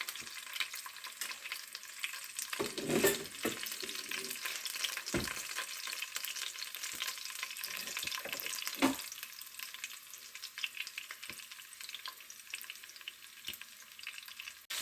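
Tomatoes frying in a pan with coriander seeds, fenugreek and cumin for celery gongura pachadi, a soft, faint continuous sizzle with occasional scraping stirs and small crackles, no voices.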